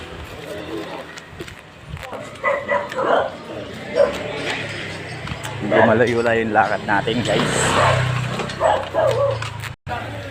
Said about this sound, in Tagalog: Yung mga aso na uulol, guys. Kahol ng kahol.